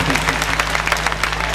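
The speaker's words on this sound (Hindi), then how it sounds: "इसके लिए मैडम के नाम पर एक जोरदार ताली" An audience clapping at a college annual function, dense continuous applause from a crowd, fairly loud and steady for the whole short stretch.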